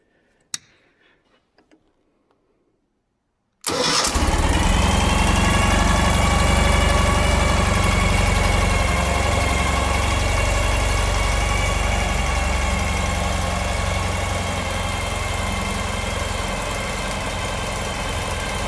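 A 2013 Ural Gear Up motorcycle, a sidecar rig in a dealership showroom, starts up after a few seconds of quiet handling noises, then settles into a loud, steady idle with a rhythmic low throb that runs without interruption to the end.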